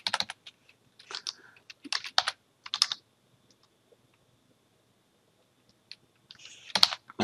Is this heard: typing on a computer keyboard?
yes